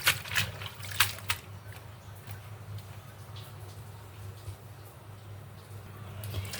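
Bottle gourd greens being rinsed in a basin of water, giving soft splashes and trickling at the start that settle into a faint, steady wash of water, close and quiet, no talking.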